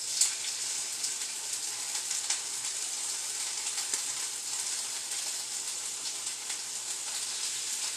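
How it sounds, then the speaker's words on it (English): Steady, crackling sizzle of chicken searing in a hot pan, continuous and close, with small pops scattered through the hiss. "You hear that sizzle?"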